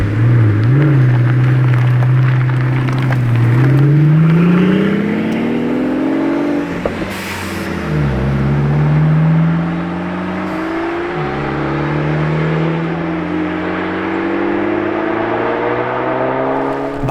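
A Pagani Utopia Roadster and a Lamborghini Huracan Evo Spyder drive on a road, engines rising and falling in pitch through repeated revving and gear changes, heard close and fairly loud.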